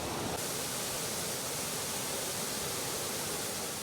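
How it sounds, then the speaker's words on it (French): Karfiguela waterfall near Banfora, where underground water resurfaces and tumbles over rocks: a steady, dense roar of falling water, loud and unbroken throughout with no voices. "les cascades de Karfiguela sont une nappe d'eau souterraine qui rejaillit en surface"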